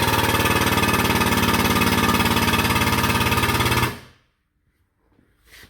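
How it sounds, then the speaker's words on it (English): An air-driven hydraulic flange puller works to pull a companion flange off, giving a loud, steady, rapidly pulsing mechanical drone for about four seconds. It then cuts off into near silence, followed by a faint rustle. "And now we're ready to pull the flange off."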